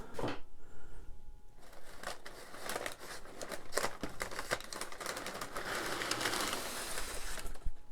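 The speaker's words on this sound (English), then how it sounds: "Some foam wrap on top." Foam wrap being pulled off the top of a comic book mystery box, giving a close, continuous crinkling and rustling with dense crackles and brief soft taps, loud and alone without any talk.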